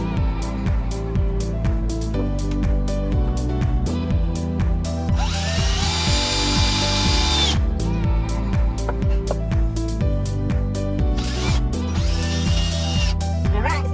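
A power drill drives a screw into wood while a DIY coconut grater is assembled, giving a steady whirring motor with rising whines and ratcheting clicks, loud and close and running almost continuously.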